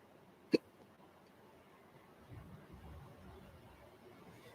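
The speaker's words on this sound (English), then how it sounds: "I got hiccups, so I'm trying not to talk." A single sharp hiccup from a person trying to stay quiet, one brief close burst standing out against a hushed, still background.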